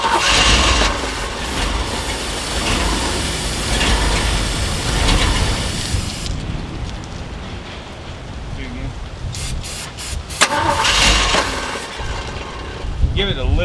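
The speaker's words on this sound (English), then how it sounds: "Try to spin it over while I spray fuel in there." An old Jeep J10 that has sat for years cranks over while fuel is sprayed into it, a rough, loud engine-turning chug with clattering bursts and pauses, voices talking nearby.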